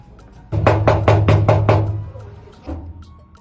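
Several firm knocks on a door, about six evenly spaced raps in quick succession, close and loud, followed by a fainter bump.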